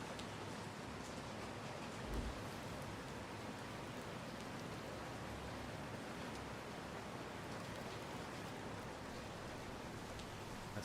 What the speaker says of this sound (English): Sweet, sweet rain ambience.